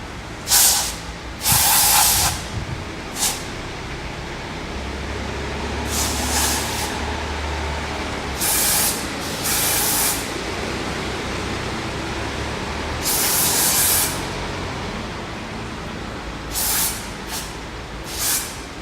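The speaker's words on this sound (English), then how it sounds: "I'm just going to spray a little bit in there, clean it up" Several short hissing bursts of aerosol carburetor cleaner sprayed into a sensor on a Ford Focus ST 225 Mk2, some brief and some lasting a second or more, separated by quiet pauses.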